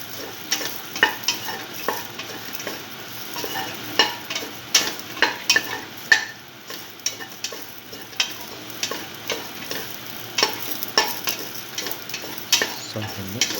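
Beef okra stew mixture with green chili sautéing in a pan, a steady low sizzle broken by frequent sharp scrapes and clacks of stirring, close and fairly loud, with no talking.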